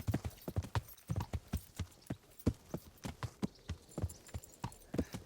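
A horse's hooves clip-clop in a steady walking rhythm in the medieval game Kingdom Come: Deliverance, quiet and evenly paced with no voices over them.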